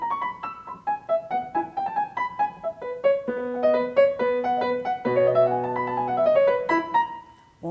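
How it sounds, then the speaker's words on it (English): The theme from the last movement of Mendelssohn's Violin Concerto is played as a quick run of bright, clear notes that rise and fall. Sustained chords enter toward the end. The instrument is close and alone, with no talking. "That, by the way, is the Mendelssohn Violin Concerto"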